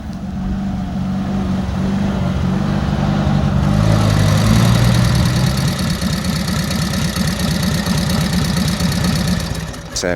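A Harley-Davidson WLA military motorcycle engine runs nearby at a festival, a loud uneven idling thump with a throaty rumble that rises midway, then settles back into a steady chugging beat.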